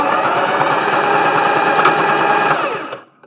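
A sewing machine stitches fabric for geo planters, running at a steady, loud, continuous hum close up, then stopping abruptly near the end.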